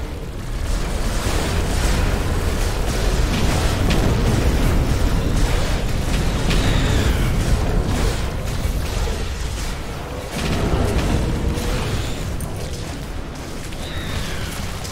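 Base buildings being destroyed during an attack in the sci-fi game The Riftbreaker, with heavy booming explosions and rumbling blasts rolling continuously and loudly, dipping briefly before surging again.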